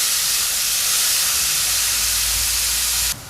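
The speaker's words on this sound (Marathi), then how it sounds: "आता हा कांदा आपण थोडासा नरम होईपर्यंत छान असा परतून घ्यायचा" Two large onions sautéing in a pan until soft, a loud, steady, close hiss of sizzling that runs throughout, then drops abruptly near the end, with no talk.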